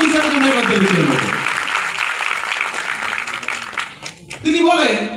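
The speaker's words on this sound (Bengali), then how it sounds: "ওয়ান অ্যান্ড অনলি মোদি কেয়ারের জন্য হাততালি চেয়ে নেব" Audience applause at a Modicare director workshop meeting, a crowd clapping in a dense, sustained burst that thins out midway and swells again near the end, with voices mixed into the crowd noise.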